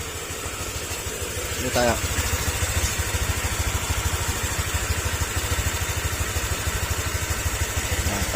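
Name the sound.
Honda Click 125 v2 scooter engine idling, warming up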